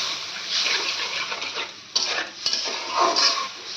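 Spice masala being stirred and sautéed in a pot after a cup of water is added, with scraping spoon strokes against metal, a soft underlying sizzle and occasional clinks, close and without talk.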